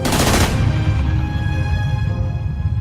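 A loud burst of rapid gunfire, eleven shots from two men on a motorbike, in the first half second, followed by a lingering ringing tone as the echo fades.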